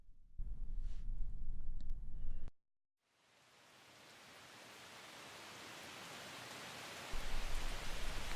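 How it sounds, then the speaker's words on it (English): Autumn rain falling over a burned landscape, a broad hiss that swells gradually after a brief silence, preceded by a short burst of other noise and growing louder toward the end. "Autumn rain quiets what's left of the summer fires to a sizzle."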